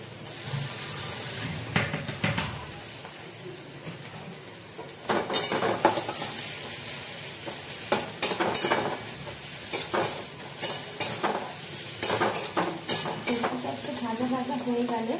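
Onion frying in a pan on a home stove, with a steady sizzle broken by repeated scraping and clinking stirring strokes, close and fairly loud, with no talking.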